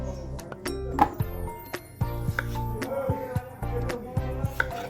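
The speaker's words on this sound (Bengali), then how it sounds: "এবারে ভালো করে চারফালি করে রাফলি আমি কেটে নিচ্ছি টমেটোগুলোকে" A knife chops tomatoes roughly into quarters on a board, making a steady series of sharp, close knocks and clinks, about a dozen cuts in quick irregular rhythm.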